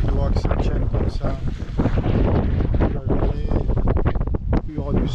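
Strong wind roars and buffets the microphone aboard a sailboat at sea on a passage from Kourou, French Guiana, to Trinidad, a loud, continuous, gusty rush filling the whole stretch.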